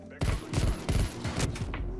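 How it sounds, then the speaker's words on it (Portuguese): Rapid bursts of gunfire ring out in a shooter video game, a dense run of close, loud shots in quick succession with a faint voice underneath. "Ele tá atirando no meu corpo, né?"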